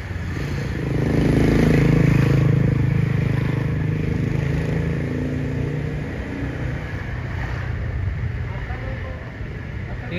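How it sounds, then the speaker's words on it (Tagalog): A truck rolls past on a city street in Iligan City, a broad low rumble that swells loud around two seconds and then fades into steady traffic noise, with people talking throughout. "Tingin ka, may truck."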